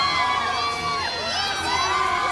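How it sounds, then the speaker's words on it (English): A crowd of students at an evening parade of lights shouts and cheers together, a loud, steady roar of many overlapping voices. "Let's hear their Eagle pride shouting out."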